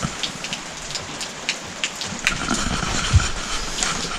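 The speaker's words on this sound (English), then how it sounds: "as you can see, it's raining" Rain falling outdoors in France on a cold, wet day makes a steady hiss, with scattered sharper drops and patters landing on nearby surfaces close to the listener.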